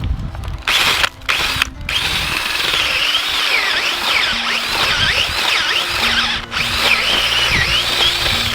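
A power drill whines steadily and loudly, its pitch rising and falling in repeated sweeps, with a couple of brief pauses between bursts.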